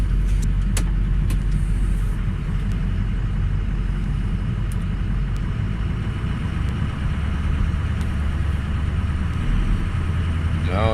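Ford Super Duty diesel truck with a suspected injector fault running and being put in gear, a steady low rumbling idle with faint clicks and knocks, close and continuous, with a voice talking quietly over it.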